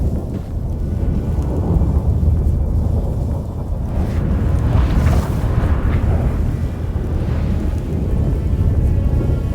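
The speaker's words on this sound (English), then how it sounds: "That a storm?" Thunderstorm in The Witcher 3: Wild Hunt, a deep rolling thunder rumble over steady wind and rain, with loud crackling surges swelling and fading across the sound.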